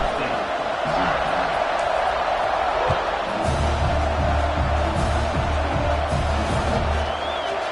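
Football stadium crowd at a college game kickoff involving Colorado State: a continuous roar of cheering from a large crowd, distant and sustained, with a low rumble growing partway through and no clear speech.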